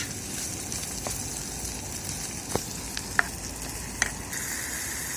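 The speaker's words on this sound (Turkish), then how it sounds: "Şimdi kavrulan soğan üzerine ardından kavurmayı koyuyoruz" Lamb kavurma sizzling on fried onions in a frying pan, a dense steady hiss with a few sharp pops rising above it, heard up close.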